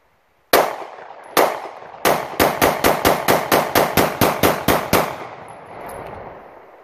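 A Polymer80 Glock 26 pistol with a Rock Slide USA slide, fed from a Glock 19 magazine, fires about fourteen loud close shots, two spaced openers then a rapid, even string with ringing echoes after.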